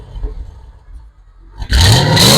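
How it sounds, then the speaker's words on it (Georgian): A BMW E36 idles with a quiet, low rumble, then the engine suddenly bursts into a loud, close rev with a rising roar. "თუ შეიძლება ჯერ მანქანის ხმაც რომ მოასმენინო რა."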